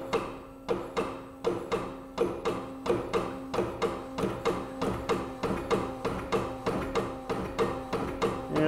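A Microfluidics M-110EH microfluidizer homogenizer runs at full 30,000 PSI pressure, producing a steady rhythmic pumping thump about twice per second over a constant mechanical hum.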